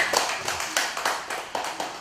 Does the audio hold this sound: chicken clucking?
no